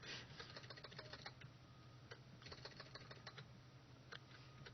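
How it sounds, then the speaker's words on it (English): Fingers type on a computer keyboard in quick, uneven bursts of soft clicking keystrokes with brief pauses, heard fairly quietly and close by with no voices. "Typing is so much more fun."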